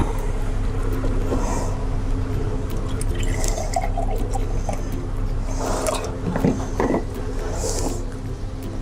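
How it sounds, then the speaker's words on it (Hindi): Milk poured from a glass into a blender for a mango milkshake, a steady liquid wash with faint splashy drips over a constant low hum, no talk. "1 गिलास मैं दूध ऐड कर रही हूँ।"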